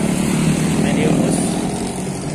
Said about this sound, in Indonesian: Melintas bus Gapura Ningrahayu Pariwisata Medium bus.